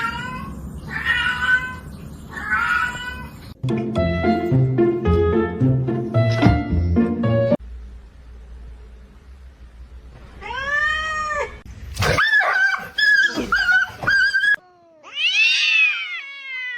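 Pet cats meowing in a series of loud, close, drawn-out calls with pauses between them, some rising and falling in pitch, with no talk.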